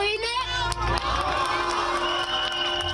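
Crowd gathered outside the Greek parliament celebrating the passing of the marriage equality reform, a loud dense mass of cheering, shouting and applause that holds steady throughout with no pauses.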